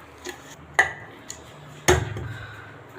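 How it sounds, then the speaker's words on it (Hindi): A spoon mixes Sindhi khurak in a metal cooking pot, making a few sharp, close clinks and knocks that are spaced unevenly over a quiet background. "अब हम उसे अच्छी तरह से मिक्स"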